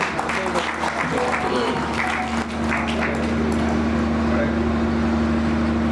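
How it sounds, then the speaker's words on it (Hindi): Audience at a public talk program applauds, steady mass clapping over a low constant hum, with a voice briefly audible in the mix. "उसके तालियां बजाते रहिए।"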